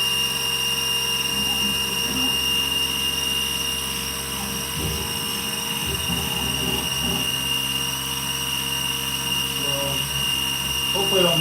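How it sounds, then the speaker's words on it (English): A milling machine spindle spins steadily while working an aluminum mold, a constant high whine with a droning hum and occasional clunks as a person briefly speaks. "Flip on the spindle."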